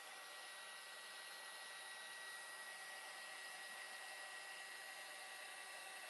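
A hair dryer drying stamped craft paper blows steadily, a continuous even whoosh with no breaks, on its own without talking.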